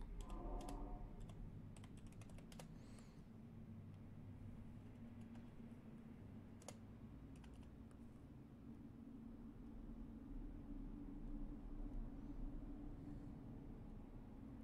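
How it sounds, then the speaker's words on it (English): Typing on a computer keyboard during a Conan Exiles game session, a soft irregular patter of clicks over a steady low background hum, mostly in the opening seconds. "I'm typing."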